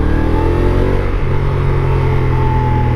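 A Honda Africa Twin motorcycle engine runs steadily up close, a loud low-pitched rumble with harmonic drone that shifts slightly in tone partway through, with no talk over it.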